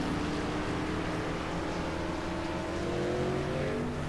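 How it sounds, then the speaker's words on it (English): Race trucks in a winter truck racing video game roll onto the track, a steady engine drone with layered harmonic whine, continuous and moderately loud throughout. "Looks like we have a couple cars coming onto the track."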